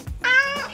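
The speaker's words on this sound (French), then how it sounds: "Lui, c'est notre chat." A pet cat kept in an apartment gives a single loud, close meow with a rising then falling pitch, lasting under a second and heard alone without talk.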